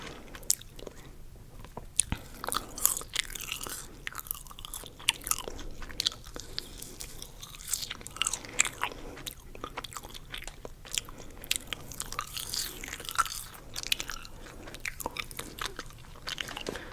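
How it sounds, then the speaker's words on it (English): Close-miked crunchy food is bitten and chewed in a steady series of crisp crunches and wet mouth sounds, with no talking. "It is so boring as well, like just eating in front of you guys."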